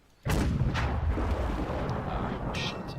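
A single heavy tank cannon blast from a KV-85 in World of Tanks cuts in abruptly and loud, then rolls into a long rumbling decay with a faint mechanical clank near the end.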